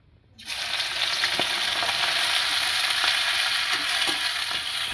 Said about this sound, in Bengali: এটা অল্প অল্প করে দিয়ে ভালো করে ভেজে তুলে নিতে হবে।